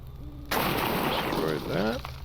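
Rapid fire attack in the Lord of the Rings Online game: a sudden loud burst of layered impact and whooshing combat effects that hold steady, with a falling game tone near the end.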